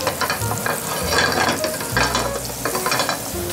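Butter sizzles in a hot pan, a steady frying crackle with soft stirring scrapes, close and fairly loud, with no voices.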